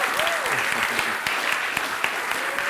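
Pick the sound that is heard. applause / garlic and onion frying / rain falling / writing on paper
applause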